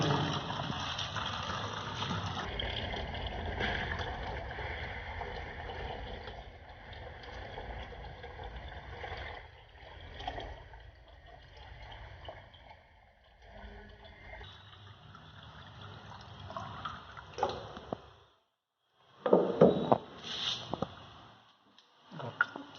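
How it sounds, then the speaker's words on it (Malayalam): Water is poured into a bottle, one litre, a steady gurgling stream running for much of the time, then fading, with a few louder splashes and clunks near the end. "ഈ കുപ്പിയിൽ ഒരു ലിറ്റർ വെള്ളം ഒഴിക്കുകയാണ്"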